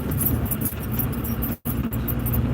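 A Jeep engine idling close by, a steady low rumble that holds throughout, with a brief dropout around the middle before the drone returns.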